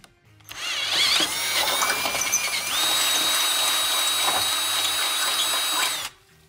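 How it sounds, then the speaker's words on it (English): A power drill bores out a mounting hole on a 2018 Jeep Wrangler JK 4-door to 21/64 inch, one continuous close, loud high whine with grinding chatter lasting about five seconds before stopping abruptly, no voices. "modify this second hole by drilling it out to 21/64 inch"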